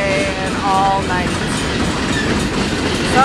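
A long freight train rolls past on rails in a town, a loud, continuous rumble and clatter with faint squealing wheel tones, close and unbroken for the whole stretch.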